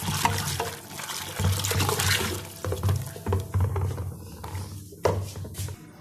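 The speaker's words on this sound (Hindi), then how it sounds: "पहले 1 जग डाला है हमने पानी का, अब 1 जग और पानी का डाल दिया" A jug of water pours into a pot of kadhi made with ground besan and yogurt, giving a steady, fairly loud splashing gush that surges and eases over several seconds, with no talking.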